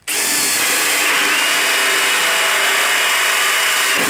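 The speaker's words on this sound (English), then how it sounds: "We're going to quickly drill a hole here" A power drill with a hole saw cuts steadily through melamine chipboard, a loud, continuous high-pitched grinding whine that runs without a break.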